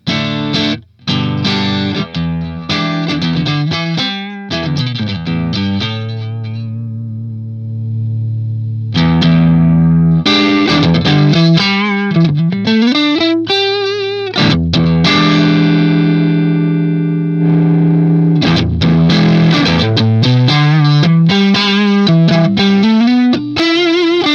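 Electric guitar on its neck pickup through a Hughes & Kettner Spirit Nano amp with the sag control off, playing sustained chords and bending lead lines drenched in chorus, distortion and echo, loud and continuous with brief pauses.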